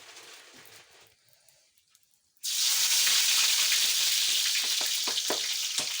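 Four or five curry leaves dropped into hot oil: quiet background at first, then an abrupt, loud burst of crackling sizzle that keeps going steadily, close up, with occasional sharper pops.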